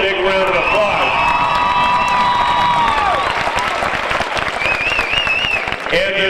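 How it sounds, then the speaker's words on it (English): At a Santa Ana High School commencement, the audience gives the wrestlers loud, sustained applause mixed with cheers and shrill whoops, filling a large venue from start to finish. "Let's give them a big round of applause."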